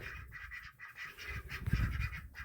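Several ducks quacking in quick overlapping bursts, close and moderately loud, with no voices.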